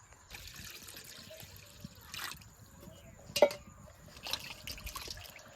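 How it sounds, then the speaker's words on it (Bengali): Water trickles and splashes into a wok on a village stove, heard as faint intermittent pouring with a couple of sharper splashes over quiet outdoor background. "কড়াই দিয়ে দিব পানি,"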